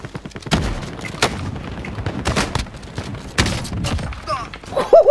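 A shotgun in Call of Duty: Warzone fires several sharp, loud blasts in irregular succession, with people talking excitedly between the shots.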